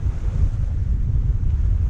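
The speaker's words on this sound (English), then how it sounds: "It's not cold, it's just a little windy" Wind blows across the deck of a Bavaria 41 sailboat at sea, a steady low rumbling buffet on the microphone with the wash of flattened waves beneath, no voices.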